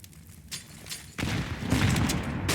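Grenades burst in a Counter-Strike match on the Inferno map, a muffled thump followed by a louder, sustained rumble of explosions and gunfire that fills the rest of the moment.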